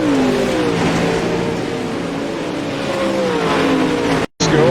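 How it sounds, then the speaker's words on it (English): Race cars at an ANZCAR event revving hard on track, loud engine notes rising and falling in overlapping pitches as several cars accelerate close by, with a brief gear-change dip near the end and no talk. "Some really good racing out there at the moment."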